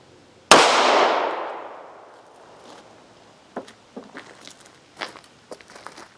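A .38 Special flat-nose factory round is fired into ballistic gel: one loud, sharp gunshot with a long decaying echo, followed by faint scattered clicks and handling noises.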